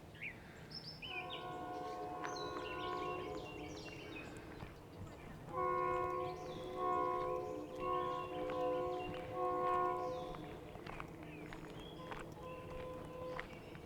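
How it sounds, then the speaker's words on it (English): A train pulls through Cold Spring, New York, sounding two long chord-like horn blasts with a short gap between them, loud and fairly close over steady outdoor street ambience with faint bird calls. "here comes the train"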